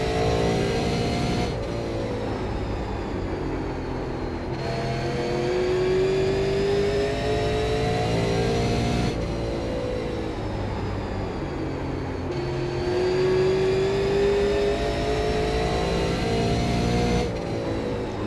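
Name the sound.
race car engine revving in iRacing video game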